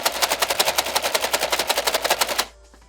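A NERF Elite 2.0 Double Punch flywheel blaster fires rapidly, about twenty sharp, evenly spaced shots over a low flywheel hum, loud and close, then cutting off into quiet.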